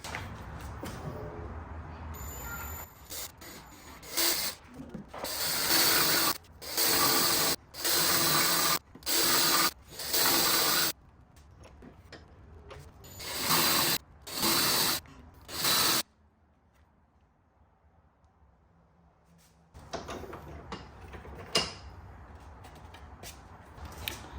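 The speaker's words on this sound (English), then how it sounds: "you're gonna have to drill just a little bit of a little gap right here" Short bursts of a small power drill whirring on and off in a series of pulses, drilling a small wire hole in a Ford Maverick, close up, with quieter handling noise between runs.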